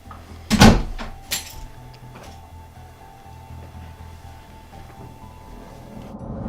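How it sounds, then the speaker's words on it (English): A door thumps shut once, loud and close near the start, followed by a softer knock and then a quiet indoor room hum. "You can close the door."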